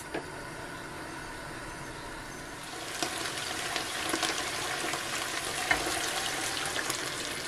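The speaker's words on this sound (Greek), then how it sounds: "Θα ρίξουμε το γάλα με τον νησεστέ στο τηγάνι και θα ξεκινήσουμε να ανακατεύουμε μέχρι να πήξει η σάλτσα μας." Cold milk mixed with cornflour hits a hot frying pan and is stirred, a soft steady sizzle rising after a few seconds with light scraping ticks of the spoon, and no talking.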